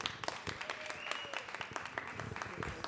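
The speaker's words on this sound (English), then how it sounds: "So give a round of applause for that." Sustained audience applause at a poetry event in Boston, many hands clapping densely with some cheering and voices mixed in.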